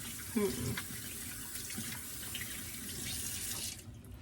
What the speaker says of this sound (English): I'm always washing my hands